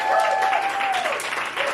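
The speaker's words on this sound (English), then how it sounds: "So another round of applause for Avery Cow doing it for 3 years running," Enthusiastic crowd applause at a three-year poetry celebration, a full, steady roar of clapping with a few whoops and cheering voices on top.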